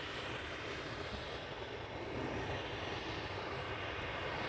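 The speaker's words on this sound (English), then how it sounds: "Is that an E2 Embraer 195?" Embraer E195 jet airliner at Amsterdam Schiphol Airport, a distant, steady engine rumble that holds level and swells slightly toward the end, with no talk over it.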